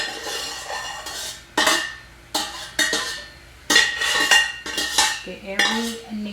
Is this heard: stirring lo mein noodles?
yes